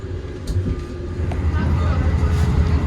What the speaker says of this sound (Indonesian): Jadi seperti ini suasana di dalam eksekutif 7 kereta api 35 Gajayana